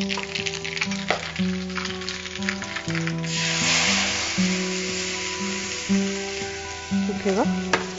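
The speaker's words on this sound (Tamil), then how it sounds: "இப்போ இதோட சேர்ந்து நல்லா கொதிக்கணும்ப்பா" Tomato pickle boils and sizzles in a pan with a continuous crackle. Bright, sustained musical tones play steadily over it throughout.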